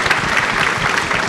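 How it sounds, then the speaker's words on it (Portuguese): Applause for a panel at a financial-sector technology conference, a steady wash of clapping from a seated audience filling the short moment, with no voices over it. "uma salva de palmas para os nossos painelistas"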